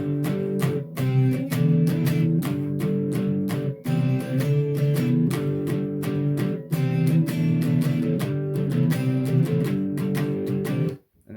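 Electric guitar power chords play a riff, loud and steady with driving repeated strums and brief stops, alone without talk.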